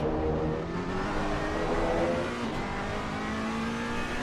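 A Porsche race car's engine roars steadily and loudly in a racing game's endurance race at Laguna Seca, a continuous high-revving drone with layered harmonic whine and no talk.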